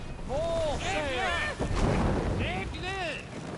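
A Viking longship under sail in Assassin's Creed Valhalla: a steady rush of wind and water runs through the whole passage, while crew voices shout over it.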